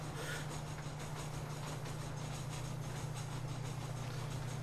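A train in the video game Red Dead Redemption rumbles along at a steady low drone with a constant hum, fairly faint and unbroken, with no voices over it.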